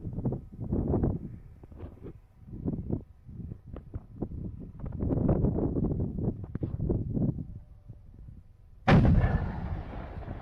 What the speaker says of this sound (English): It's an AMX-10 being used as an indirect fire artillery piece.